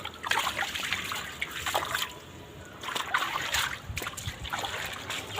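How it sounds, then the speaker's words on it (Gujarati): Light rain falling outdoors beside a new small block on a late-October day, heard as steady trickling and dribbling water with occasional splashes, fairly close and continuous, with no talking. "અત્યારે વરસાદ આવે છે જો હલકી હલકી બારિશ તો હો રહી"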